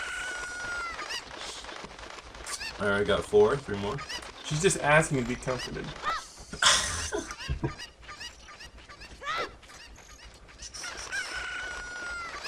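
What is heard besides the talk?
chicken clucking and crowing in video game Zelda: Ocarina of Time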